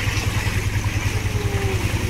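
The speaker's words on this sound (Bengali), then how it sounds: "ট্রলারের স্পিড বেড়ে গিয়েছে" A trawler's engine chugs as the boat speeds across Mithamoin haor, a steady low rhythmic thumping close by with no other sounds over it.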